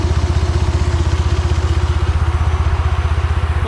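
A turbocharged 3A92 engine with a K03 turbo runs in an off-road buggy, giving a loud, steady, rapid pulsing throb close by with a metallic clatter and no talking.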